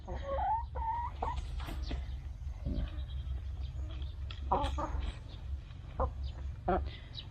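Backyard laying hens cluck softly in a home garden coop, with scattered, intermittent calls at moderate distance over a low steady hum, and someone talking throughout.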